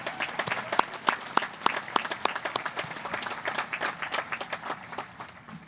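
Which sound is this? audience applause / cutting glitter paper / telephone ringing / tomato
audience applause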